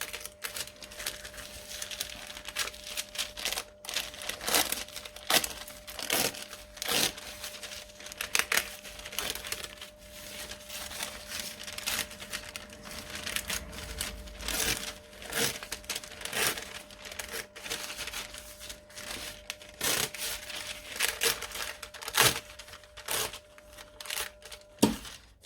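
Paper stabilizer being torn away close along a line of machine stitching on sewn fabric, heard as a long run of crisp, irregular ripping and crinkling bursts near the listener, with no voices.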